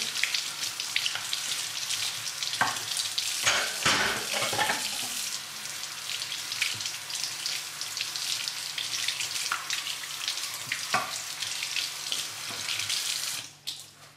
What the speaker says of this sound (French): Moi, je le rince simplement à l'eau.